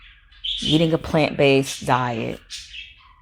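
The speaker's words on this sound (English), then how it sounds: "Say hello to my birds because they're saying hello to you if you hear them chirping in the background." Pet birds chirping in the background of a room, brief high tweets sounding softly beneath a person talking nearby.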